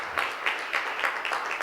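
Audience applause at a reflective closing session, a steady dense patter of clapping from a crowd with no talk over it.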